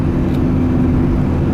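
A car accelerates from 20 to 40, its engine drone steady and loud from inside the cabin with a smooth rising hum and no speech.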